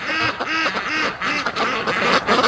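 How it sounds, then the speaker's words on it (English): A group of ducks near a thickly iced lake quacks repeatedly in a rapid, close, overlapping chatter that continues throughout. "Oh, they're following me down, the silly ducks."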